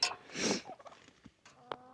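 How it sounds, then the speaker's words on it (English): White Leghorn hens give a few short, close clucks and squawks, with one louder burst at the start and scattered softer calls after, amid light background rustle. "These white hens that I got right here"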